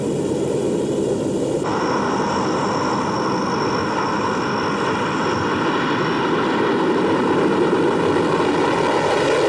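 Engines of a Hercules military transport aircraft roar loudly and steadily at close range, a dense propeller drone with a sustained whine that holds without any break and no voices.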